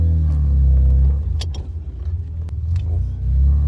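A Nissan R31 Skyline with an RB30 engine and straight-pipe exhaust rumbles loud and deep up close, its idle swelling and dipping with a few sharp clicks and rattles over the drone.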